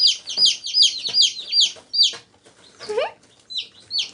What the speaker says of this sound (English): These chicks are wild.